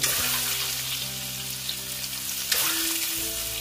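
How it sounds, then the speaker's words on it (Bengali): Eggs frying hard in hot oil with turmeric and Kashmiri chili powder, a steady, loud, continuous crackling sizzle with a few light stirring shifts. "ডিমগুলো সব ভেজে নেব। একটু কড়া করে ভেজে নেব।"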